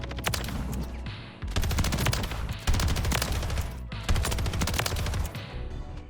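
Rapid bursts of automatic gunfire from a video game, loud and dense, coming in sustained volleys broken by short pauses, with no voices.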